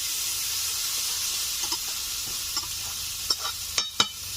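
Homemade Bengali fish curry of local koi fish with potato and tomato, turmeric powder and salt stirred in, sizzles with a steady loud hiss and a few scraping stir strokes near the end.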